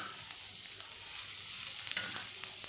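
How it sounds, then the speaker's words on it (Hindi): Asafoetida and mustard seeds sizzle in hot oil as a tempering for a ridge gourd (tori) sabzi, a steady close bright hiss broken by small scattered pops and crackles, with no talking. "हींग तड़केगा और राई इसके साथ ही फूट जाएगी।"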